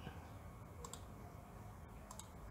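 Soft, quick clicks of typing on a computer keyboard, very faint and close, come in small irregular bursts over a steady background hiss.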